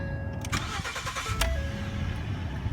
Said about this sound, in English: Go ahead and start it up. It should start up just fine.